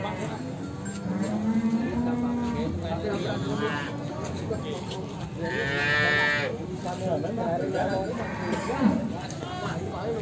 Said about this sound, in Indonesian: Memang untuk sapi-sapi yang dibawa Mas Derajat, dia ukurannya sudah lumayan besar